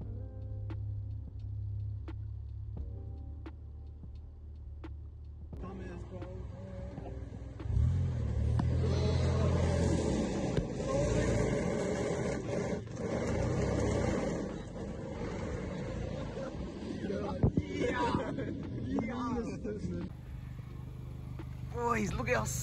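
Mitsubishi Colt Plus engine fitted with a pod filter, running with a choppy, uneven idle and a steady rumble that grows louder partway through, with people talking over it.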